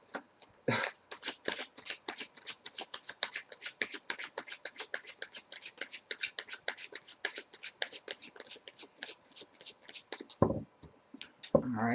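Tarot cards being riffle shuffled, a dense run of crisp, rapid paper flicks and snaps close up, with a couple of louder handling rustles near the end.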